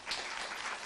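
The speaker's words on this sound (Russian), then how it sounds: "Аплодисменты." Audience applause at a televised journalism talk, a dense steady wash of clapping from a full hall lasting the whole brief moment, with no voices over it.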